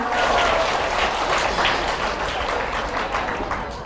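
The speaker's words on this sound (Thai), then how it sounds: "ขอเสียงปรบมือเป็นกำลังใจให้หน่อยค่ะ" An audience breaks into sustained applause, a broad wash of clapping that stays fairly even and close throughout, tapering slightly toward the end.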